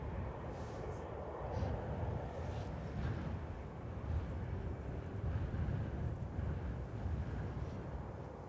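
Strong wind buffets an outdoor microphone at Manchester Airport, a steady low roaring rumble with gusty swells that lasts throughout, with a faint voice beneath.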